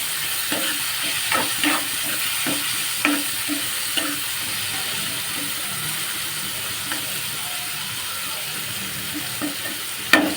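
Tomato pieces fry in a pan for a tomato and egg curry, giving a steady sizzle under repeated scraping stirs of a utensil, close by, with a sharper clatter near the end.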